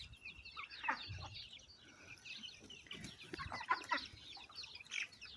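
Several chickens cluck in bursts close by on a poultry farm in Evrenköy, Adapazarı, Sakarya, Turkey, with short calls rising and falling over a steady farmyard hum; no one speaks.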